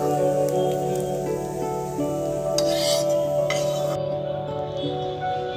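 Fried onions are scooped from a pan into a bowl, with metal spoon scrapes and clinks against the cookware over a faint sizzle, close, under steady background music.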